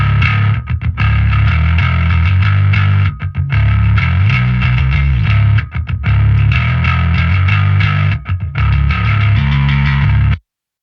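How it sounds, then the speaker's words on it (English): A thick, distorted bass guitar plays alone through a Line 6 Helix/HX Stomp rock and metal tone, heavy low notes with a gritty top end, pausing briefly between phrases. "Let's listen to the bass soloed for a second."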